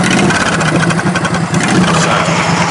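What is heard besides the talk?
MTD race mower engine running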